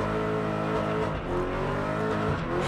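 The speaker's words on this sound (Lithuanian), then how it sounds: "Gražus driftas, iniciacija pakankamai gera, uždūmina ir padangas" A 1992-model car drifting at a street drift event in Šiauliai, engine roaring continuously at high revs with tyres smoking, loud and close throughout with no pause.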